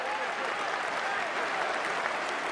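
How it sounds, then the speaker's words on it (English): A fight-event crowd applauds a legendary fighter with dense, loud, sustained clapping and cheering that fills the whole stretch without a break. "a round of applause for the legendary fighter"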